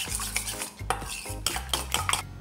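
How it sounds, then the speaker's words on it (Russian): A utensil clinks steadily against a bowl in a quick stirring rhythm, stirring eggs with water and starch, close and fairly loud, with no voices. "Все тщательно перемешиваем."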